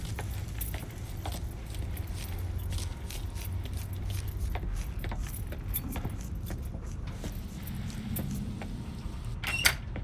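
Keys jangle in the video game Mafia 3 as a truck's keys are grabbed, with metallic clinks scattered over a steady low engine-like rumble and a sharp clink near the end.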